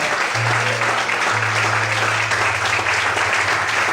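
A church congregation applauds during a Brazilian sermon, loud continuous clapping with a low sustained tone running underneath, no voices over it.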